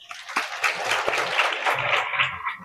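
Audience applause fills a hall at an international conference on dissolution testing and bioavailability, with dense, sustained clapping from a large crowd that stays loud and even for the whole stretch.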